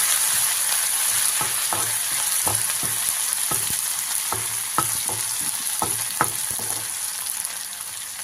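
Crushed ginger and garlic sizzling in hot oil for an onion dish, a steady loud fry with occasional stirring taps, close up and without talk.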